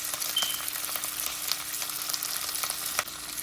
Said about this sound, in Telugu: జస్ట్ కొంచెం ఫ్రై చేస్తున్నాను